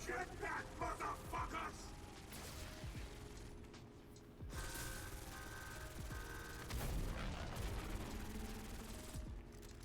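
Rapid PU-21 gunfire aimed at the Richtofen boss in Black Ops 6 Zombies, dense bursts of shots layered over mechanical game effects and explosions, sustained and busy throughout.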